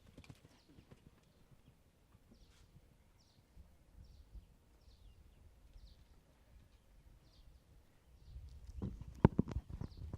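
Imported mares walk at an auction collection viewing, their hooves clip-clopping in an unhurried, fairly distant rhythm. A few birds call faintly in the background, and louder thumps and movement arrive near the end.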